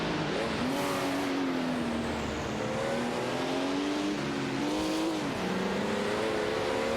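Simulated Ferrari and Porsche 936 race cars roar together in a video game race, a loud, continuous engine drone with shifting pitch as they rev, upshift and jostle for position.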